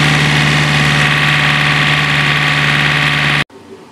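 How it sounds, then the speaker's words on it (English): Diesel John Deere 970 tractor engine idling close by, a steady loud rumble with a strong low hum that runs unbroken for about three and a half seconds, then cuts off abruptly to near silence. "saw that nice diesel John Deere 970. It sounds somewhat like a turbo diesel, but it's not actually."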